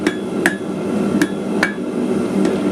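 Ringing hammer blows strike 1/4 inch round steel on the edge of an anvil while forging a small taper on the tip, five sharp metallic strikes at an uneven pace over a steady background noise.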